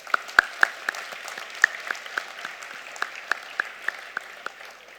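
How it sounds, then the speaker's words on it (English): Graduation ceremony audience applauding, steady broad clapping from a crowd with sharp individual claps standing out near the microphone, moderately loud and continuous. "let's give us a big round of applause"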